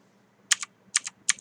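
Three quick keypresses of the plus key on a main computer keyboard, close and fairly quiet. Each press is a crisp double click of press and release, spaced evenly with short silences between.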